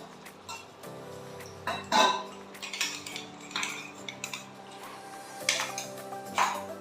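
A metal spoon stirs water into a pot, knocking and clinking against the rim in uneven bursts with scraping between strikes, close and clear with no voices.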